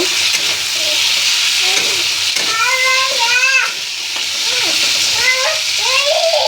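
Spices frying with potatoes and pointed gourd in a pan give a steady, bright sizzle that hisses throughout, while voice-like tonal sounds rise and fall over it.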